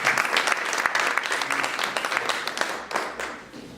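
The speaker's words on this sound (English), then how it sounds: "give this guy a round of applause." An audience claps and applauds steadily throughout at a talk about reading, a dense, loud wash of clapping with no speech over it.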